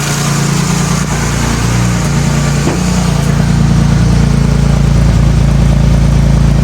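An Opel Omega B V6 engine idles loudly and steadily close by after repair and first start, its revs settling down slightly partway through, with no talk.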